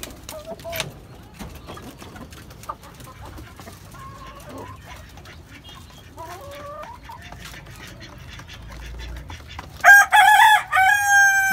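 Fayoumi and Pakistani chickens in a backyard coop cluck softly and sporadically, then a rooster crows loudly and close near the end. Brief quiet talk comes and goes in the background.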